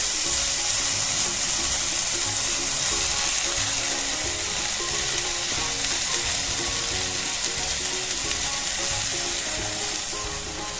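Continuous loud sizzling of spices frying in a hot pan for Bengali mixed vegetable moong dal, a steady hiss with faint stirring scrapes underneath, no voices.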